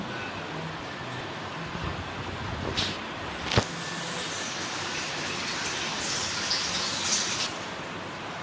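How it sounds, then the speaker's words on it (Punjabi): Water pours into a pressure cooker over peas for matar paneer, a steady splashing gush that holds for several seconds at close range, with a few brief knocks partway through. "ਹੁਣ ਮੈਂ ਕਰੂੰ ਇਹਦੇ 'ਚ ਪਾਉਂਗੀ ਪਾਣੀ"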